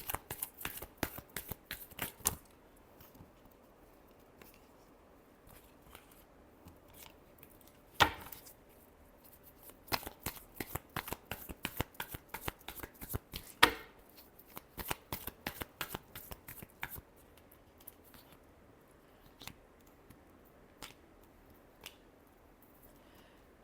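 Tarot cards are shuffled by hand in quiet bursts of quick, riffling, papery flicks with short pauses between them, close and faint, with no one speaking.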